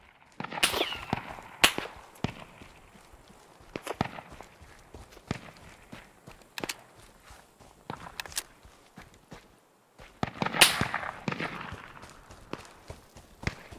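Sharp pistol shots crack out in scattered bursts across a quiet Deadside game scene, with several spaced reports and softer footstep-like knocks between them.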